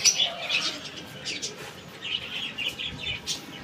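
Pigeons coo and flutter nearby, with scattered chirps and soft wingbeats in short bursts throughout.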